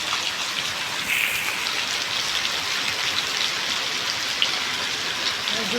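Steady rain falls in a dense, continuous hiss, close by and fairly loud, with no break over several seconds.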